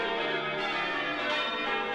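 Church tower bells ring in a steady, overlapping wash of tones. The set includes a medieval bell and bells from the late 17th or early 18th century. The sound is moderately faint and continues throughout with no talking.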